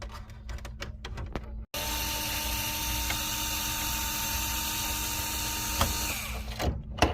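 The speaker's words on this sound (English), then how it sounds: "First thing I do is remove the fan, just 4 little screws." Small screws being removed from a PS5 fan, a few ratcheting clicks at the start, then a steady mechanical hum with faint clicks close by.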